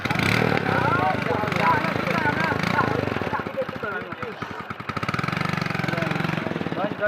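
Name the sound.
motorbike engine idling after kick start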